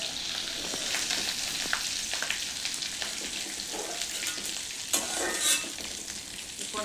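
Pointed gourd (potol) pieces fry in hot oil with a constant close sizzle, broken by the scrape and clatter of stirring. No one speaks.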